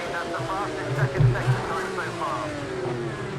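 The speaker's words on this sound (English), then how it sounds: "You may have heard the engine rev up a little bit" A Group C race car engine in Project CARS 2 hums and briefly revs up, loud and close, with a voice speaking over it.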